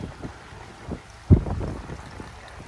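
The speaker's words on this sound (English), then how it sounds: "Oh my God, the wind." Strong wind gusts buffet the microphone outdoors beside a vandalized property, a steady low rumble with one sharp thump midway and no speech.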